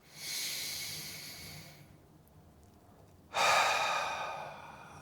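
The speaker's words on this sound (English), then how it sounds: "Take a deep breath in and sigh out" Two long, slow breaths during a guided easy bed mobility exercise: an airy inhale drawn in, a brief pause, then a louder, forceful exhale sighed out, close and without speech.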